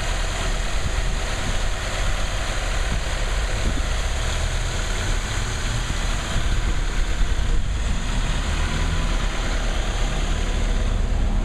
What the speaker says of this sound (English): Well, the engine has warmed up